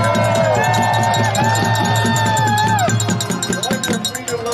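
A large outdoor crowd at a freedom rally cheers and whoops loudly and continuously, with shouting voices and whistles blending into a dense roar that eases slightly near the end.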